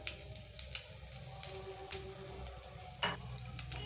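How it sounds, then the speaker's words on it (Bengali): Crushed garlic and ginger paste sizzle faintly in hot oil with five-spice seeds, a low continuous crackle broken by a few light clicks and one brief stirring scrape. "প্রথমে দিয়ে দিলাম থেতো করে রাখা রসুন তারপর দিচ্ছি আদা বাটা"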